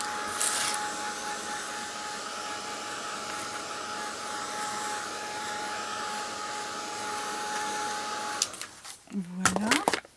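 A heat tool blows steadily to dry structure paste on a winter album cover, a continuous close-up whoosh with a faint hum, stopping near the end before brief clatter and a few soft handling noises.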